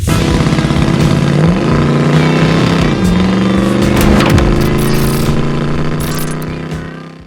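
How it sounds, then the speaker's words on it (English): A 1967 Chevrolet Camaro SS convertible with a fuel-injected 350 V8 and automatic transmission runs steadily on the road, its engine tone rising and shifting through gears, loud and continuous throughout with no talking. "1967 Chevrolet Camaro SS Convertible 350 fuel injection. Let's take it for a test drive."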